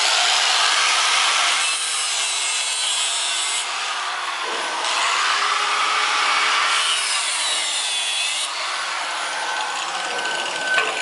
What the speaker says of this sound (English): So you take your angle grinder and you cut off your tails.